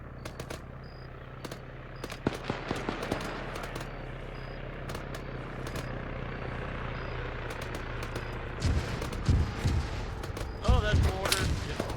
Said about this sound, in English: Oh, that's mortar.